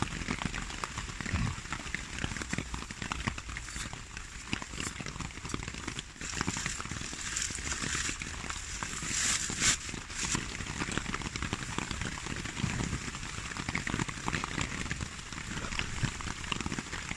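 Steady rain pattering on surfaces outdoors at a campsite, a continuous dense hiss with small crackles and drips throughout, fairly loud and unbroken.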